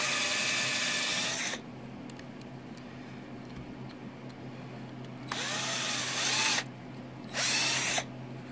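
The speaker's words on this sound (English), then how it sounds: "There's 4 of these that are a 1/4 inch drill bit." A power drill fitted with a 1/4 inch bit bores holes in a Spyker KAT 2X chassis in a workshop, running loud in three bursts: one long run, a pause, then two shorter runs with quieter gaps between.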